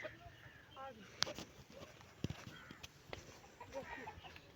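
Chickens and a wild junglefowl rooster cluck in a farm coop, with scattered short calls and scratchy movement sounds against a busy background, while a person talks nearby.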